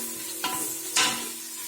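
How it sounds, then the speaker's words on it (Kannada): Two large onions fry in ghee for mutton biryani, a soft sizzle broken by two sharp scraping stir strokes against the pan, close and moderately quiet. "ಇದು ಅದೇ ತುಪ್ಪಕ್ಕೆ ಈರುಳ್ಳಿ ಹಾಕ್ತಿದ್ದೀನಿ"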